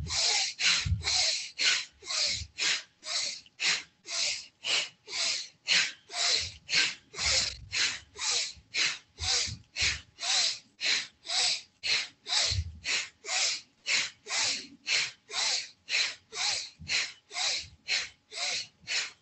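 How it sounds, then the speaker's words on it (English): Bhastrika pranayama, a yoga deep-breathing exercise: a long run of forceful, rapid breaths through the nose, about thirty even rhythmic puffs close to the microphone, each sharp and hissing with brief gaps between. "That was a Bhastrika pranayam or deep breathing exercise."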